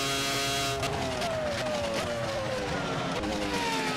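Racing video game car at the Malaysian Grand Prix circuit taking turn 1, its engine note falling steadily as it brakes and rotates through the corner, loud and continuous with a brief tyre scrub.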